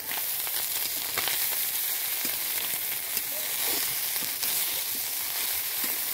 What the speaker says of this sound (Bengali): তোমাদেরকে একটু নেড়ে দেখাচ্ছি